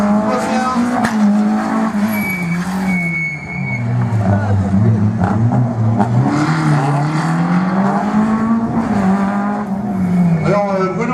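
Slalom race car driven by Bruno Griffon at Agon-Coutainville, engine revving loud and close, its pitch rising and falling through gear changes, with tyre squeals, while a commentator talks over the sound.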